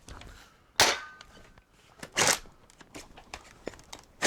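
Nerf toy shotgun pumped and fired twice, each a sharp plastic snap-and-whoosh about a second and a half apart, followed by lighter clicks and rattles of handling.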